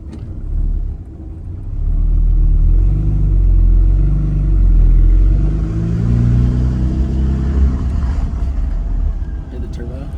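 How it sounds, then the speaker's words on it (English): A turbocharged Noble car engine on its first drive after a motor swap rumbles deep and loud, rising and easing under throttle with faint turbo whine and no clamshell fitted, while people talk over it. "Hear the turbo?"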